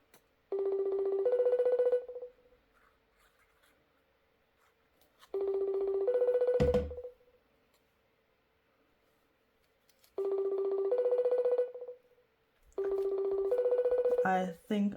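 Telephone ringback tone as a call is placed: four separate bursts of a two-note ring, each about two seconds long with pauses between them. The ringing is clear and close, with a brief thump near the middle and some faint sound at the end.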